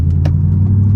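An unsupercharged Jeep Trackhawk being driven in the rain gives off a loud, close, deep engine rumble that holds steady for a brief moment, with a couple of faint higher clicks on top.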